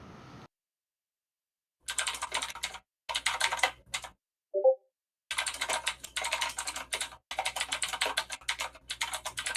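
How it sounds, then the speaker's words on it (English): Fast, furious typing on a computer keyboard during an online tabletop role-playing session, dense bursts of clattering keystrokes broken by brief pauses, close and fairly loud, with no talking. "Someone is typing furiously."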